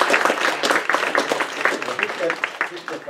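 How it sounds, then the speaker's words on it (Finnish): An audience at a Finnish rebel poetry evening applauds the performers, with dense, lively clapping that fills the room and continues steadily from start to finish. "vielä taputukset Maria-Leenalle ja kaikille"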